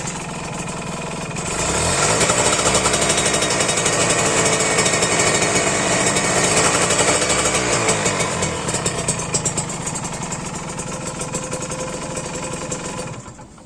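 A Kawasaki Ninja RR two-stroke motorcycle engine revving close by, a loud raspy buzzing rattle that swells and holds steady before easing off.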